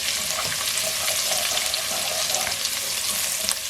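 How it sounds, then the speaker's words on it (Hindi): Ginger garlic paste fries with cumin in hot oil, a steady close crackling sizzle with faint stirring scrapes and no voices. "अदरक लहसुन का पेस्ट जो है वो भी अच्छे से फ्राई हो गया है"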